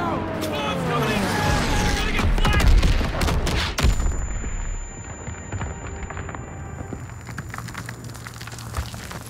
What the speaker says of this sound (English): P-47s are coming in! Clear out! Bombs coming in!